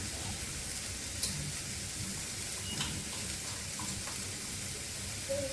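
Onion frying in a pan, with turmeric added for a grated bitter gourd stir-fry, gives a soft, steady sizzle under a watery hiss and a few faint clinks, with no one talking.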